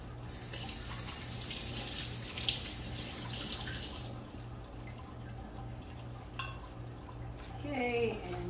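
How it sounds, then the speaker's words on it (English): A kitchen faucet runs in a steady hiss while food is rinsed under it. The water then shuts off and leaves a low hum, and a voice speaks briefly near the end. "Okay, let me rinse these."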